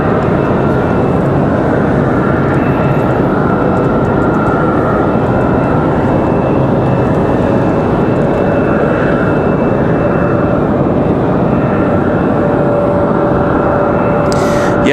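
An Endeavor CRJ 900 regional jet arriving at Raleigh-Durham from Newark makes a steady, loud, broadband roar that holds without pause, close and unbroken from start to finish.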